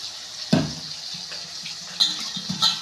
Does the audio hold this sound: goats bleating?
no